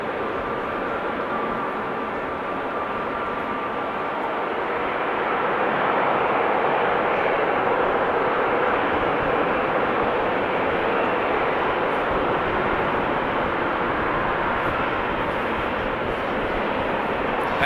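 Airliners at Amsterdam Schiphol Airport make a broad, steady engine roar that swells slightly and then holds loud and continuous, with a faint tonal whine inside it.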